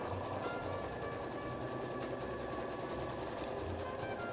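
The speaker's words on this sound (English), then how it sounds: "I quilted the X patterns in each block so it would be nice and cuddly instead of putting too much detail in for Haley." A sewing machine quilting X patterns into a quilt runs steadily with a fast, continuous mechanical whir at fairly low volume, without pause.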